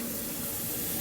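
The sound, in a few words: mushrooms, onions and garlic sizzling in oil in pan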